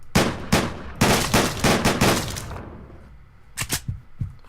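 Gunshots in the video game Deadbolt, sharp and close, fired first as a rapid string of blasts and then, after a brief lull, as a few more scattered shots.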